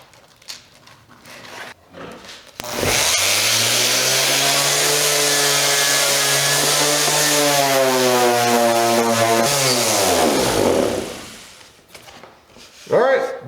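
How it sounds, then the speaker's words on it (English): A Black & Decker 5-inch random orbital sander runs with a steady motor hum for about eight seconds, its pitch sagging and rising slightly before it winds down; brief handling noises come before and after. "didn't seem like a particularly powerful sander, but all right, that's the Black & Decker"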